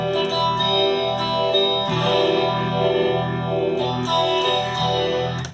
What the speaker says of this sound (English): This is a DoD 250, adds distortion, no tone changes, love it.